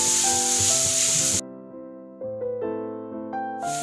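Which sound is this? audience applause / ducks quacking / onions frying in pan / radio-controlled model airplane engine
onions frying in pan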